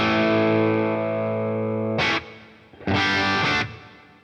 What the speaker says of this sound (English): Let's add a little bit of reverb.